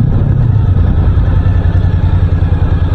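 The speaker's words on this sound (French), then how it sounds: "il y avait une moto devant, j'avais pas vu" A motorcycle engine runs steadily and loudly nearby, a continuous low rumble with no voices.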